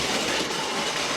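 An OO gauge kit-built SDJR 7F model locomotive hauls a short freight train of three wagons and a tank on three-rail track. It gives a steady, close, continuous rolling whir and rumble with no talk.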